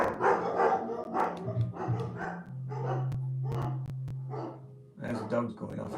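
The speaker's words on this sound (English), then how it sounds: "There's the dogs going off it again." Dogs bark in a rapid series of sharp, fairly close woofs and yips indoors, the barking going on in repeated bursts throughout.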